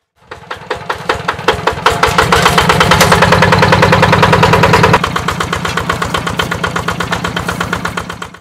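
A second-hand farm tractor engine starts up and idles with a loud, rapid, rhythmic diesel-like chugging that settles into a slower steady thump after a few seconds, close and alone with no voices.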